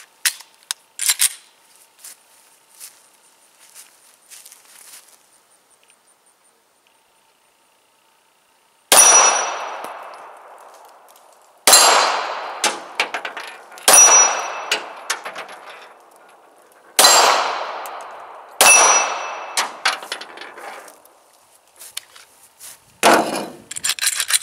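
A Smith & Wesson SD40 VE pistol fires a series of sharp, loud shots outdoors, each crack ringing out and decaying, spaced a few seconds apart after a quiet pause, with a couple of fainter shots at the start.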